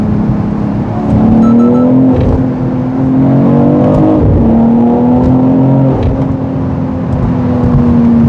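A BMW X3 M Competition SUV in M sport mode revs hard, its engine note climbing and falling in repeated surges, loud and close inside the cabin with no talking.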